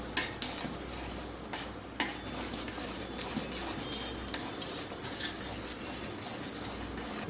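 A spoon stirring a thick rice upma mixture in a pan, with repeated scraping and scooping strokes, occasional metallic clinks against the pan and a soft sizzle underneath, close and moderately loud with no talk.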